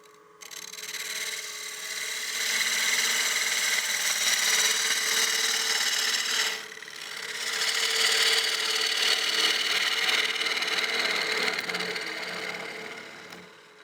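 Wood lathe hollowing a partially seasoned bowl, a loud continuous scraping hiss of the tool cutting the spinning wood, pausing briefly midway, then resuming before fading out.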